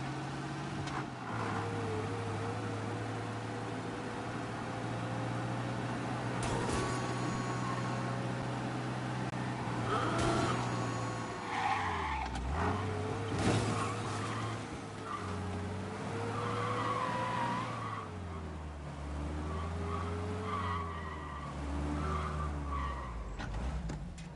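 A car in the video game Mafia Definitive Edition drives with a steady engine drone, its pitch rising and dipping as it accelerates and turns, with several drawn-out tire skids and squeals over about twenty-four seconds and no talking.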